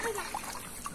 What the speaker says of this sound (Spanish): vamos nuevamente a soltarla para que busque. Bien, se fue al agua.